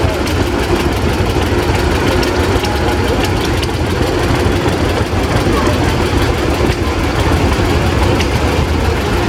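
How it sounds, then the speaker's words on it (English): A 1957 John Deere 420 tractor engine idles nearby at a steam and gas engine show with a steady, low, knocking chug, while voices talk indistinctly over it. "It's a 1957 John Deere 420."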